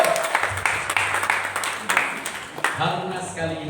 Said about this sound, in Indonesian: kita beri tepuk tangan buat anak-anak kita yang luar biasa